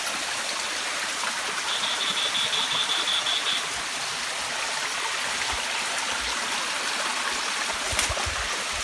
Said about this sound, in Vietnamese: Bây giờ là gặp một cái thác lớn nữa